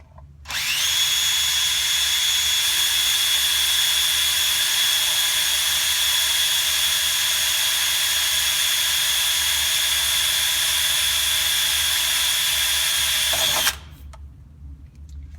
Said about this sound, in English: So I'm gonna hold it in position and drill this guy.